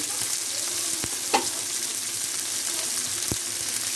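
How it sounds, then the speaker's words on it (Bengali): Shredded cabbage frying in a pan with softened onions for a Bengali cabbage bhaji, a steady soft sizzle broken by a few sharp utensil taps and stirring scrapes, no voices. "এখন বাঁধাকপিটা দিয়ে দিলাম, পেঁয়াজটা নরম হয়ে গেছে, বাঁধাকপিটা দিয়ে দিচ্ছি"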